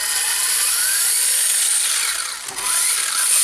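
Hyper Go H16 4WD RC truck drives forward, its electric motor giving a high, close whine that rises and falls in pitch, briefly dipping near the end before surging again.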